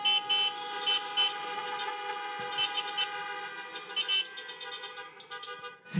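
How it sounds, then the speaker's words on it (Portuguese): A car horn honks in sustained, blaring tones at a drive-in church service, over a busy background, loud and continuous throughout with slight pulsing. "buzina aí!"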